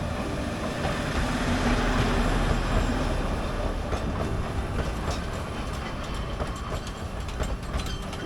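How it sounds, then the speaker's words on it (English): An Oigawa railway train pulls into a mountain station with a steady, dense rumble of wheels and carriages, rhythmic clacks rising toward the end, loud and close without any voices. "the train is arriving."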